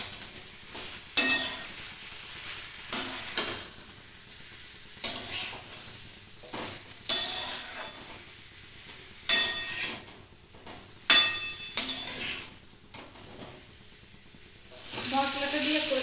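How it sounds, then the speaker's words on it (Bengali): Turmeric, cumin and coriander powder frying in a pan with broad beans, brinjal, bori and potato curry, loud bursts of sizzling between repeated scraping stirs, with brief quiet gaps and a strong hiss at the end. "এখন আমি মশলাটা দিয়ে কষে নেব।"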